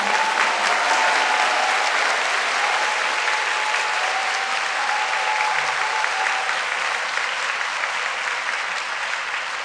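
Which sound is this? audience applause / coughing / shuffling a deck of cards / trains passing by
audience applause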